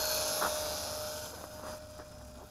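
Electric motor of a Tian Sheng TS866 F6F Hellcat RC plane at full throttle, struggling with a weak battery, gives a thin steady whine in flight, fading slightly as it moves away.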